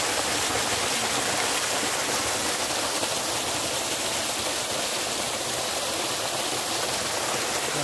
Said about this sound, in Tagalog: maririnig mo lang ay yung tunog ng tubig,